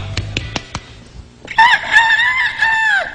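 A man imitates a rooster crowing: a few sharp clicks and taps lead into a loud, drawn-out vocal cock-a-doodle-doo with a falling tail.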